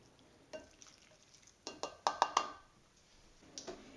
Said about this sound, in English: just give it all a good mix